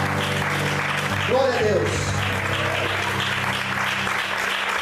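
A church congregation applauds in a continuous, dense wash of clapping lasting several seconds, fairly loud and even, while a voice speaks over it briefly near the middle.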